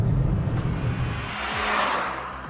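Honda Amaze facelift petrol engine with a five-speed manual revving hard, a loud rising engine roar up close, the pitch climbing steadily with no voices.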